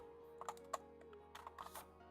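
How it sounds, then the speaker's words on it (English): Quiet computer keyboard typing, a few soft isolated keystrokes followed by a short cluster of taps, faint and close over a low steady electronic hum. "I hate typing when I can't see the keyboard"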